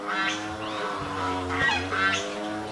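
Geese and turkeys honk close by in a farmyard, repeated nasal honks and gobbling calls overlapping in a loud, uneven chorus with no talk.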